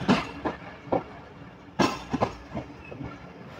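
A passenger train rolls along the railway near Mubarakpur station in Pakistan, its wheels beating out a rhythmic clickety-clack of close, loud thumps over rail joints, with faint metallic clinks between.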